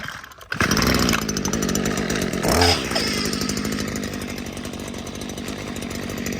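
Stihl FS94R string trimmer engine, choke on, catches after a cord pull and runs loud and close, a buzzing two-stroke drone with a brief rev partway through.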